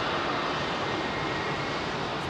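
Steady broadband jet roar of an airliner departing runway 27R at London Heathrow, close by and sustained at an even loudness throughout, with no voices.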